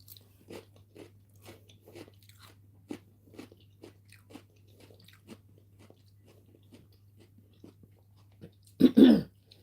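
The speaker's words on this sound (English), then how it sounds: "Let me know if you can hear the crunch." Crunchy food, Jamaican dinner fare, is bitten and chewed close to the mic in a series of crisp, scattered crunches over a low steady hum, ending in a louder burst of laughter-like noise.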